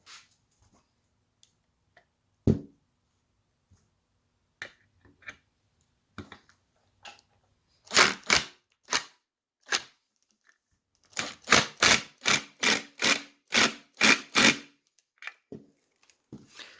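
A spade bit tightens a fitting while a Remington 1100 shotgun is reassembled. Sparse clicks come first, then a close, rapid series of sharp ratcheting ticks in quick bursts.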